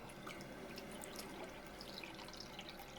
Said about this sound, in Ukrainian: дві пачки висипаємо у якусь тарілочку заливаємо водичкою